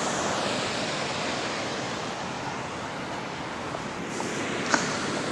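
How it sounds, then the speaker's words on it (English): Waterfall beside a cold-water creek, a constant close rushing roar of falling water with no pauses and no voices. "We are of course close to the waterfall, so it would be loud"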